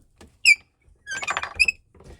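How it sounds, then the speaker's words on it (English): Squeaky handle on a jewelry chain-making tool used to make fine silver chain, giving sharp high squeals in two or three short bursts with creaking between them, close and loud, with no talk. "Yes, I have a squeaky handle."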